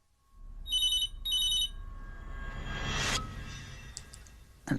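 Two bursts of a telephone ringing in a hotel room at night, each a trilling electronic ring lasting under a second, close and clear, followed by a rising rustle and a sharp click as the receiver is picked up.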